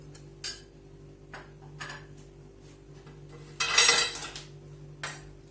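A spoon stirs red lentil soup in a pot, producing scattered metallic clinks and scrapes against the pot, with one louder, longer scraping swirl near the middle over a low steady hum, and no one speaking.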